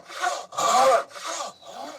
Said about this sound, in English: We're now moving on to this turning saw.